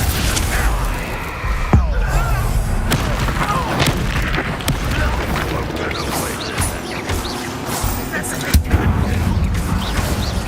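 Fire spell Incendio cast during Hogwarts Legacy gameplay, loud bursts and crackling impacts amid constant game noise and clattering effects, with a sharp hit near the start and another toward the end.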